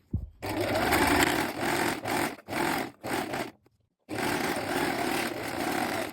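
A sewing machine runs fast, stitching the side seams of an elastic-waist skirt at one centimetre from the edge, in a loud steady whir broken by a few brief stops, then a longer continuous run.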